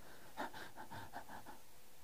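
A person imitates a dog panting with a short run of quick, rhythmic breathy huffs, close and soft.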